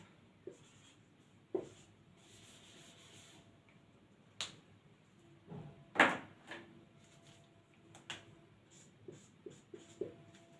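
Someone writes notes during a Hindi-language classroom lesson, likely with a pen or marker: sparse, quiet scratches and small taps scattered irregularly over a near-silent room, with no voices.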